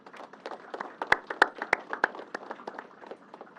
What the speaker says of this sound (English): let's give them a double round of applause